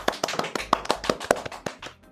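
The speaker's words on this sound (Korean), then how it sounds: "박수 부탁드립니다" Sparse applause from a small audience at a Korean cloud-services webinar as a presenter is introduced, a dozen or so separate claps in an uneven rhythm, fairly close and with no talking over them.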